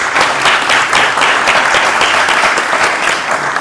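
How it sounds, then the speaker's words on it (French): Audience applause for the speakers at a round-table panel at ENA Meknès during an alumni day, a dense, steady clapping from a full room that holds at an even, loud level throughout. "Je vais vous demander tous d'applaudir nos intervenants"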